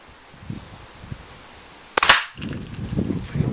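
A single sharp gunshot with hollow point rounds fired at cassette tapes cracks out loudly and briefly, with low murmuring voices before it and talk continuing right after.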